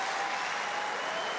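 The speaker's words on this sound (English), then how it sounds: "the crowd show their appreciation here in Paris for the effort from these two men" Crowd in Paris applauding after a wheelchair para badminton singles match, a dense, even wash of clapping, steady and moderately loud throughout.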